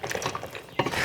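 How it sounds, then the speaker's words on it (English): A spoon or spatula scrapes and stirs orange chicken and vegetables in a pan, brief clattering strokes with a louder scrape near the end, close and alone. "And just stir it till it's all evenly coated"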